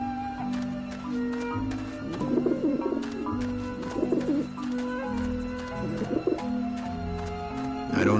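Pigeons coo repeatedly in the video game Grim Fandango Remastered, soft throaty burbles rising out of a busy game soundscape with steady background tones and occasional clicks.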